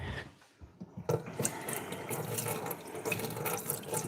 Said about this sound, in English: gonna rinse this out real quick and be right back